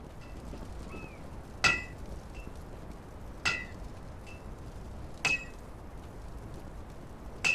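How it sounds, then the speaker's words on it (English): Hammering at a forge while swords are made in the game Divinity 2, three sharp metallic clanks spaced about two seconds apart, fairly faint over a quiet ambient background. "Lord, all that hammering is going to be torture."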